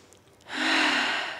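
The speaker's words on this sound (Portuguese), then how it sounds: "faz uma respiração" During a yoga class, a single long, audible breath is drawn in after a short quiet pause, close and soft, rising and then easing off.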